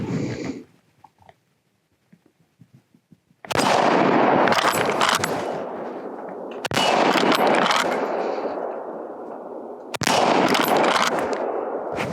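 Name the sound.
Marlin lever-action rifle shots at a target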